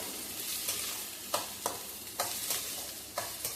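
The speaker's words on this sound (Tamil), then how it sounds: "நல்லா வதக்கி விட்டுருவோம்" Onions sauté with salt in a pan for egg fried rice, a soft steady sizzle broken by several sharp scraping stirs of a utensil against the pan, close and fairly quiet, with no talking.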